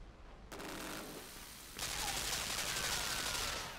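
Rapid gunfire in the video game Limbo, a dense crackling burst that swells louder midway and continues steadily, heard alone and somewhat distant.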